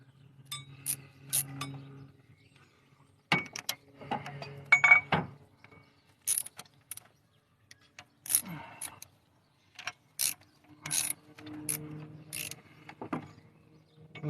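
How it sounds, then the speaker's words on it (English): A ratchet and metal sockets clink and click in scattered bursts while engine bolts are worked loose during a head gasket replacement on a 2008 Dodge Avenger, with pauses between short clattering runs. "Stupid ratchet."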